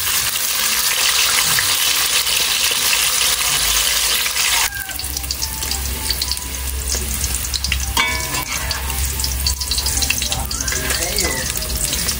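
Eggplant slices sizzle steadily in hot frying oil outdoors at a family picnic, a loud continuous crackle with occasional stirring and a brief shift in tone partway through.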